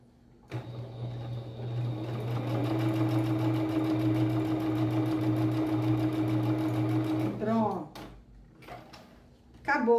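A sewing machine with a presser foot stitches a fabric placemat, running in a steady whirring hum for about seven seconds before stopping, followed by someone speaking.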